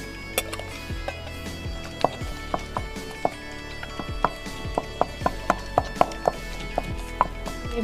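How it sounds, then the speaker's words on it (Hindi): Repeated pounding of strained mustard greens (saag) on a stone sil batta, with sharp thuds in an uneven, steady rhythm that runs throughout, loud and close with no one speaking. "साग को मैंने स्टेन कर लिए, तो आप इसको सिल बटे में कूट लेते हैं"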